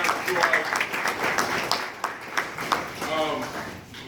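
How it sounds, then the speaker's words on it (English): Audience applause at a guest speaker talk, a moderate patter of clapping hands with some individual sharp claps standing out, heard at a middling distance and fairly even throughout. "Okay, good round of applause."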